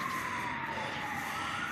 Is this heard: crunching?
no